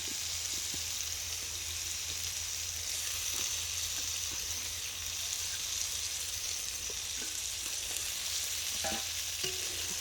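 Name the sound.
stirring fried fish into spice masala in a pan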